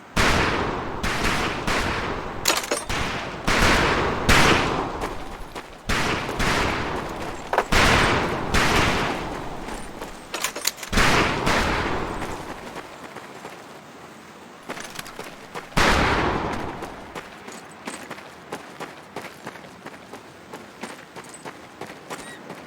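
Rifle fire on a military shooting range in Medal of Honor: Pacific Assault, the 2004 video game. Loud, dense volleys of shots crack one after another with short gaps between them, and no voices are heard.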